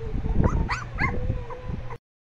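A neighbour's dogs yip, bark and whimper up close in a house, with several short rising whines and barks over a low background hum before the sound cuts off abruptly.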